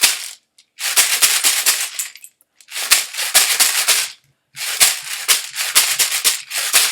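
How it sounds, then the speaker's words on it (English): Shaker played by a 5th-grade music teacher in a steady rhythmic pattern: three loud bursts of bright, hissy rattling separated by short pauses, close and alone with no talk. "just play my shaker, it would sound like this"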